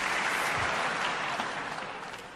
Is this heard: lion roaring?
no